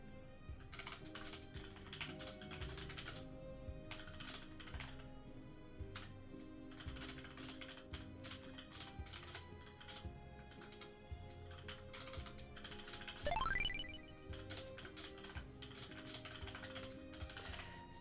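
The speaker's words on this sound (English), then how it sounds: "Sorry, keyboard ASMR moments." Rapid clattering keystrokes on a computer keyboard run steadily and close up, in bursts with brief pauses, alone without any talk.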